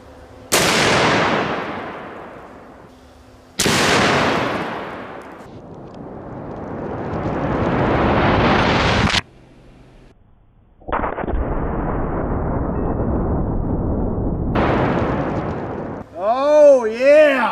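A .50 caliber SLAP round fired at a 340-pound Atlas stone: several loud, sharp gunshot blasts, each followed by a long rumbling decay, with a brief warbling tone at the end.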